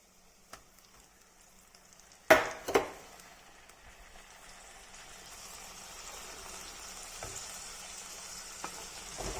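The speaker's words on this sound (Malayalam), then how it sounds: "ഇനി ഇതിലേക്ക് നമുക്ക് അരപ്പ് ചേർത്ത് കൊടുക്കാം." Ground paste for a fish curry hits the hot pan with a couple of sharp clatters, then settles into a soft, steadily building sizzle as it fries.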